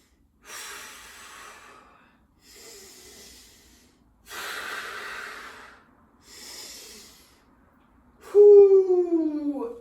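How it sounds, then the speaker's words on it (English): Slow, deep breaths during a plank exercise, four long airy inhales and exhales in steady rhythm, close to the mic, followed by a louder moaning exhale at the end. "We'll take 3 more deep breaths here."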